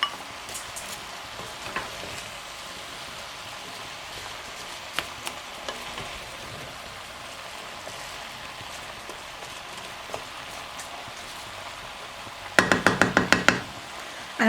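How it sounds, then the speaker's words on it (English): Chopped apples drop into a pot of butternut squash cooking on the stove, a steady soft sizzle underneath, followed near the end by a quick series of loud knocks and clatters. "All right, I'm adding my apples."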